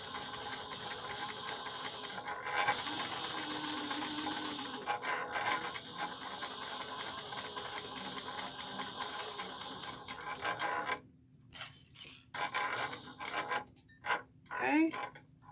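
A sewing machine runs in a steady mechanical whir for several seconds, then stops, followed by short bursts of stitching and faint handling noises.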